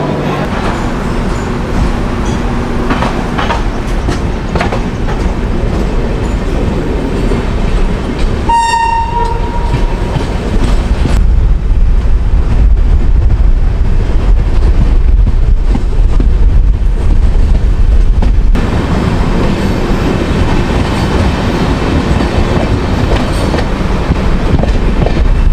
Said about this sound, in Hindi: ट्रेन इस तरह से भाग रही है कि पूछिए मत